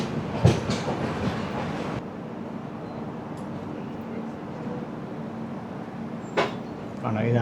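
The Netravati Express running on rails through Kerala, a steady rumbling roll with rattling carriage noise and occasional knocks and clanks, heard from inside the train and fairly even throughout.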